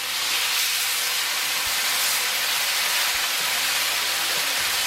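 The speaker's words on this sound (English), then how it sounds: "Some more meat in there. Get it stir fried around." Beef strips hiss and sizzle steadily in a hot wok during a Mongolian BBQ beef stir fry, a continuous close broadband crackle with low stirring knocks and scrapes underneath.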